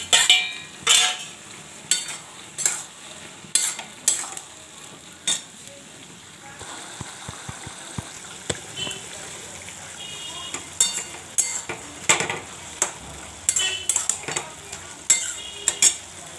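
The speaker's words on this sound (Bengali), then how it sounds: "নাড়িয়ে দিচ্ছি, হয়ে গেছে।" Prawn curry with turmeric, ginger, ground roasted coriander-cumin and sugar is stirred in a pan, giving repeated scraping and clinking strokes at a steady rhythm over a soft sizzle, with brief speech.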